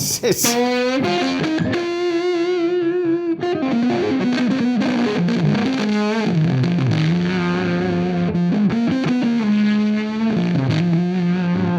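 Cranked germanium fuzz pedal on an electric guitar into a Friedman small box amp, a continuous loud run of sliding, bending lead phrases with thick saturated sustain and no talk.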